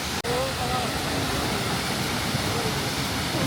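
Fairy Falls, a waterfall in Hunua, roars as a steady broadband rush of falling water, loud and continuous throughout, with a brief faint voice barely audible at the start.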